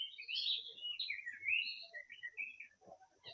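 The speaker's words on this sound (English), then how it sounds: "birds singing at the same time" Several birds of different species chirp and trill together in a wetland in bright, overlapping high calls, a continuous busy chorus with faint low rustling underneath.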